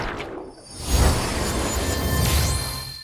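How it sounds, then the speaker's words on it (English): A dense, roaring energy blast with rising whooshes and deep booms, loud and sustained for a few seconds, like a sci-fi cannon firing; a light cannon skill in the game Reverse: 1999. "whooshes to build up the blast"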